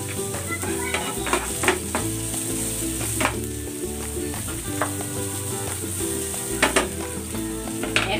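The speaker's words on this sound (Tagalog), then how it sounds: "Igisa natin ito hanggang sa maging translucent yung ating sibuyas." Onions sauté in a hot pan for Filipino beef bistek, an even loud sizzle close by with frequent stirring clinks and scrapes of a utensil against the pan.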